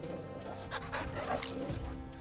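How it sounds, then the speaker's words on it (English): A dog in the video game Final Fantasy XVI gives soft whimpers and yips while being petted, close and moderate over steady game background sound, with no talk. "Tinsel Tina, can you pet the dog?"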